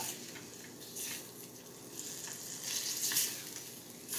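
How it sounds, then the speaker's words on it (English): Ground beef browns in a pan with a steady, moderate sizzle and occasional brighter crackling bursts, close by with no voices over it. "we're gonna brown this ground beef"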